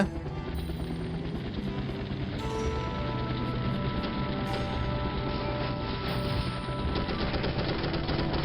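Continuous anti-aircraft gunfire and rapid automatic bursts fill a mission in the 1998 game M.I.A. Missing in Action, a dense, loud, unbroken barrage of crackling shots with a rumbling low backdrop and no speech.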